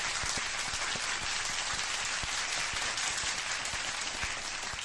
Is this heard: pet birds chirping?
no